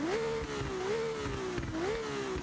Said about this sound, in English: That's a new Ferrari V8